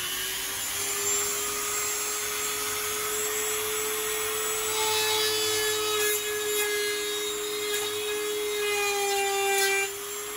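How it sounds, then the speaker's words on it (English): A power drill whines steadily into mahogany while building a boat companionway, a sustained motor tone with some scraping as the bit bites, close and fairly loud, no talking. "and then I'm going to drill."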